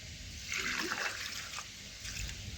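Water trickling and splashing as it is poured into a pan of mung dal with vegetable stems, a soft, close pour that swells for a moment and then tapers off.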